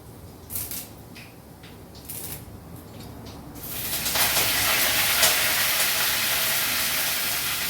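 Curry leaves drop into hot oil that already holds green chillies, and a quiet pan bursts into loud, steady sizzling hiss that fills the rest of the clip at close range.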